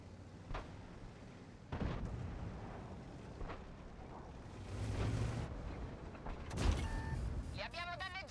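Artillery fire in a tank battle video game: several deep, booming blasts scattered through a low rumbling battlefield bed. Heavier impacts come late, followed by mechanical whirring and high chiming tones.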